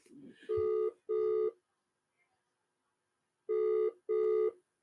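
Two pairs of steady electronic ringback tones on an outgoing phone call, each burst about half a second long, separated by a pause of roughly two seconds, clear and alone with no talking.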